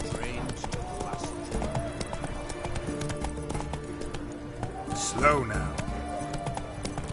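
Roach, a horse in The Witcher 3, gallops with a quick, steady clip-clop of hooves alongside game sounds and a short snort, while someone talks over the running rhythm.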